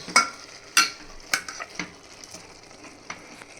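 Mutton masala with tomato paste sizzles steadily in a pan while a spoon stirs and scrapes against the metal, with occasional sharp clinks.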